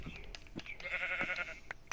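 A sheep in the video game Minecraft bleats in a short wavering call near the middle, with brief clicks and game sounds scattered around it, moderately quiet and close.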